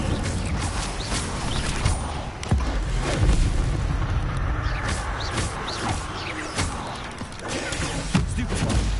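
Incendio fire spell cast in Hogwarts Legacy, a series of booming bursts and whooshing flares over a busy layer of combat effects, loud and close throughout.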